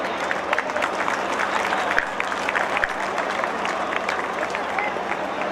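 A crowd at a dedication and building inauguration ceremony in Assandh applauds steadily, dense continuous hand clapping that fills the whole stretch.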